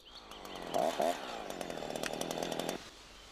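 A chainsaw runs close by in one short burst: it revs up sharply, holds a buzzing high-pitched whine for about two seconds, then cuts off.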